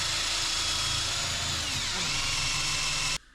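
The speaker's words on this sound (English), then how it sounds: "Next we'll put the hole in the cane and cut that off and match it up right." A power drill whines loudly and steadily as it bores a hole through a wooden cane, its pitch dipping briefly midway before the motor cuts off abruptly.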